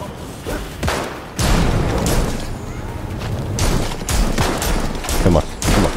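Gunfire from the Gotham Knights video game, with repeated loud bursts and volleys of shots layered over constant dense action noise.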